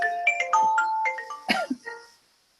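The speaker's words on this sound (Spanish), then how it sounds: "Vaya, el teléfono, perdón." A phone ringtone plays close by during an online ISO 9001 talk, a melodic electronic tune of bright stepped tones that sounds alone for about two seconds before fading out.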